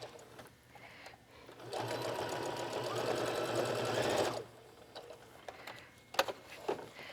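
A sewing machine back stitches across the end of a fabric wallet in one quick, close whirring burst of needle clatter, then falls quiet as a few soft clicks and handling sounds follow.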